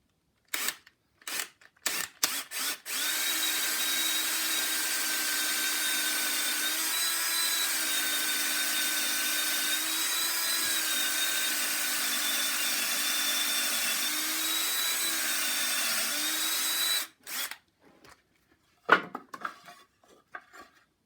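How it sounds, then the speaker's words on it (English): A power drill whines steadily for about fourteen seconds as it bores through three stacked pieces of wood, bracketed by sharp clicks and knocks before and after. "you just want to drill right through all 3 of them"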